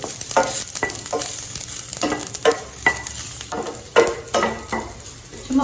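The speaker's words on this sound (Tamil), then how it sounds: "அதில் இந்த பூண்டை போட்டுக்கணும்" Oil sizzles and crackles steadily as garlic fries in tempering oil and is stirred, with intermittent scraping bursts of a utensil against the pan.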